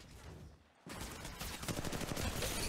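R-301 rifle fire in Apex Legends Mobile. After a near-silent start, dense automatic bursts break out and build into a rapid, evenly spaced rattle of shots.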